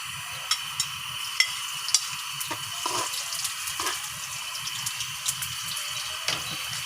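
Chopped Bombay onions sizzle and fry in a pan for a beef loaf with egg and sayote, a steady close crackle with soft scrapes and taps of stirring scattered throughout.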